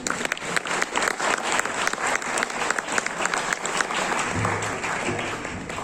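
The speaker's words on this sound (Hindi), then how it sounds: "शुक्रिया आपकी तालियों का भी।" Audience at the inaugural session of an academic seminar on archives and knowledge gives a full round of applause, dense and fairly loud clapping that holds steady before slightly easing near the end.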